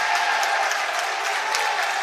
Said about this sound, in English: And the whole team's going to come out there to clap for him as a timeout.